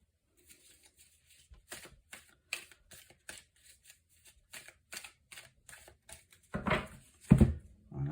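Tarot cards being shuffled and cut by hand, a series of soft crisp riffling snaps spaced irregularly, ending with a few louder thumps as the deck is cut and tapped; close and quiet, no talking.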